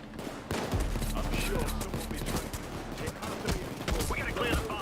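Gunfire in the Payday 2 video game, a dense run of rapid shots and impacts continuing throughout, loud and busy with talking over it.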